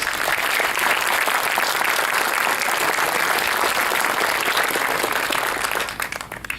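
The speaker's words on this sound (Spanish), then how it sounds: "Vamos a dar un fuerte aplauso al Señor para animarnos." Sustained congregational applause fills a church, loud and dense for several seconds before thinning out and fading near the end.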